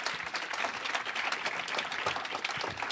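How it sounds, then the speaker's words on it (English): A conference audience at a periodic paralysis event gives a steady round of applause, a continuous dense patter of many hands clapping at a moderate distance without any talking. "just give yourself a round of applause."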